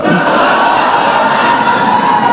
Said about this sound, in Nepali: हुनक पक्ष में हुटिंग आ ताली के गड़गड़ाहट सुनल गेल।